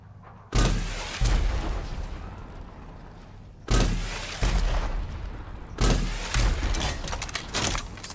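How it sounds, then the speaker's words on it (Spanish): A smart rocket launcher in the shooter game Rage 2 fires rockets that explode, three heavy booming blasts spaced a few seconds apart, each with a long rumbling decay. "Para disparar unos cohetes que explotarán al alcanzar su objetivo."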